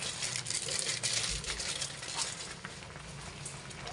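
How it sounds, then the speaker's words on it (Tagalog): Miswa soup bubbling at a steady boil in a pot, a continuous close hiss and crackle with no talking. "Ayan, kumukulo na."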